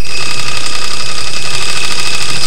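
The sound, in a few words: small scale live steam engine running, alcohol-fired pot boiler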